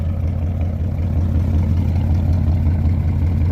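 Loud and close, a car's 400 engine idles as it warms up, holding a steady, deep rumble with a faint uneven lope.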